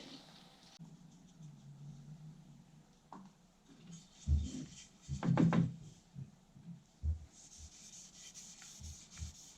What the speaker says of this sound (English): rub it in up at the top end of the handle, really getting the pores up there.